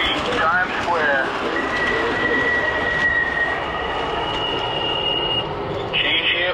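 An MTH model subway train of MTA R62 cars runs steadily with a loud, even rumble, a sustained high wheel squeal through the middle, and brief squeaks near the start and end.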